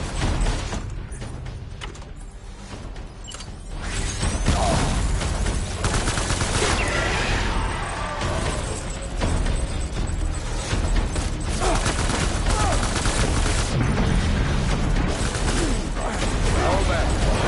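Dense gunfire and battle noise from a boss fight in the game Death Stranding rattles on almost without a break, loud and close, with short bursts and heavy impacts layered over one another.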